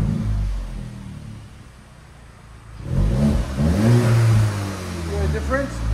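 A turbocharged 2024 VW Golf GTI with an MBRP aftermarket exhaust, first a low engine rumble, then a revving burst with rising and falling pitch, close and fairly loud.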